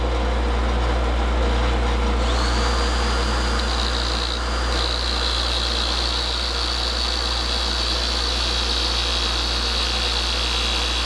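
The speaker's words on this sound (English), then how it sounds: "Now I'm going to put a bevel on it." A bench grinding wheel puts a bevel on a steel Ruger Mark pistol magazine, giving a constant loud motor hum and whir with a steady high grinding whine that rises as the metal is pressed to the wheel.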